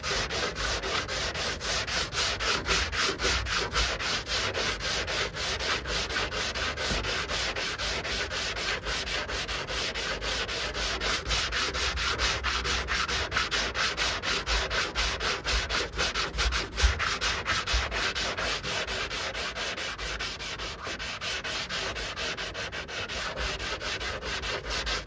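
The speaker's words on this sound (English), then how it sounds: "I took a piece of Velcro grit, Velcro 80 grit, wrapping it around this," Hand sanding the bodywork of a 1964 Chevy Impala convertible with 80 grit Velcro sandpaper wrapped around a block, a continuous close, loud, fast back-and-forth scratching that runs without a break and with no talking.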